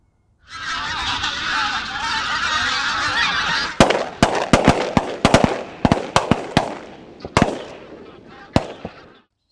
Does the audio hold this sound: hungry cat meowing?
no